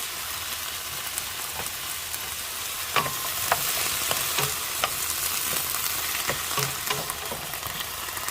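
Broccoli and sweet peas sizzle and crackle steadily as they are stir-fried in a hot pan, with scattered sharp pops and spatula taps over a continuous frying hiss, close and fairly loud, with no talk.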